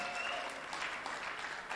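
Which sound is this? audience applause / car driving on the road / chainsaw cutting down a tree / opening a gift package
audience applause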